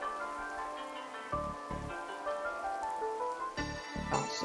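Steady rain falls outdoors on a grey day in Ireland, a close, continuous patter on surfaces with a few louder bursts, and no voices.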